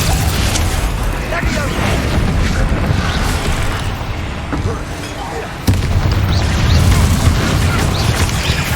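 In the video game Hogwarts Legacy, a Confringo explosion spell bursts with heavy booms and fiery blasts amid battle noise, including one sharp impact partway through, loud and close over dense game sounds.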